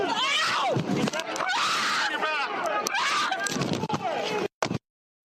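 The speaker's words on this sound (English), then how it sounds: "screaming as the riot police took her down, bloodying her face" A woman screams loudly and repeatedly as riot police take her down at a protest, with shouting and scuffling around her, ending in a few brief sharp cries.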